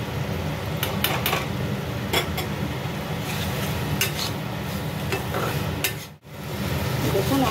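Fried potatoes are stirred into a sizzling spice masala for Bengali-style ghugni, a steady frying hiss with repeated scrapes and clinks of a spoon against the pan, close and continuous.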